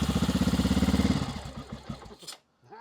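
A 1994 Honda XR650L motorcycle engine, unused for fourteen years, fires up and runs with a rapid, loud, rhythmic thumping, then stumbles and fades into irregular sputtering putts with a brief silence near the end.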